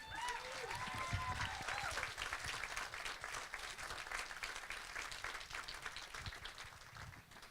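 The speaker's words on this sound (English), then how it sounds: "Keep that round of applause going" A crowd of wedding guests at Hammock House in Wekiva, Florida keeps up a sustained round of applause, the dense clapping fairly distant and soft, with a scattered voice or whoop rising over it.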